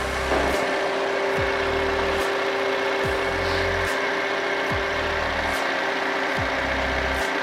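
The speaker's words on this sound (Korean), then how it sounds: "엔진 소리 일정하고 좋습니다." A Lexus IS200t engine idles steadily nearby with a constant hum and a faint periodic low pulse, no voices.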